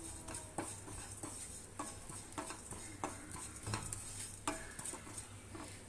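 Bread halwa roasting in a pan over a low flame, a spoon scraping and stirring with soft sizzling and occasional light clinks against the pan, faint and steady throughout with no voices.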